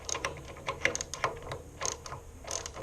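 A ratchet turns a half-inch nut on the bolt of a commercial transaxle from a Ferris IS 700Z mower, giving quick irregular bursts of clicking, close and fairly quiet, with no talk.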